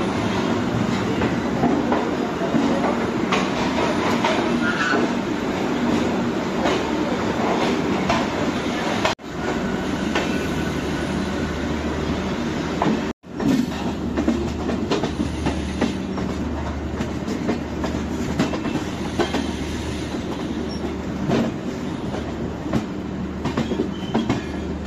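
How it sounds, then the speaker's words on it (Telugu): Konkan Railway express train running on the Mumbai to Trivandrum route, heard from inside as a loud continuous rumble with rhythmic wheel clatter, two brief sudden drops in noise along the way. "మా ట్రైన్ అయితే స్టార్ట్ అయిపోయింది."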